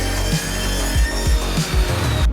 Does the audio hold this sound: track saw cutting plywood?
yes